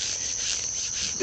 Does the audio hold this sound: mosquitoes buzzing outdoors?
yes